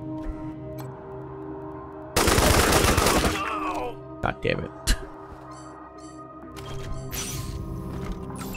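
A burst of dense gunfire erupts in Wasteland 3, loud and sustained for about a second, followed by scattered single shots and mechanical clatter against a low game soundscape.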